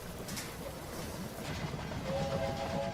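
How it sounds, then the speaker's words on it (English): In a railway video game, a train rolls in with a steady rumble and wheel clatter, topped by a sustained horn tone near the end, moderately loud with no talk. "Looks like he's blocked in because the other train's coming in now."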